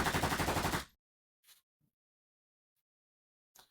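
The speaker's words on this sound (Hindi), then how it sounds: "उन्होंने नागराज पर अंधाधुंध गोलियां" Rapid automatic gunfire from commandos, a fast burst of about ten close, loud shots lasting under a second, followed by silence and a few faint scattered clicks.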